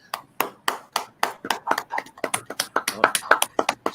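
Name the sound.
audience applause, standing ovation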